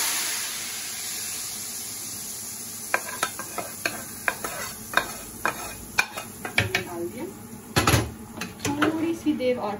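Steady hot-oil tempering sizzles throughout as it is poured over beef trotters curry, joined midway by scattered spoon scrapes and clinks against the pot.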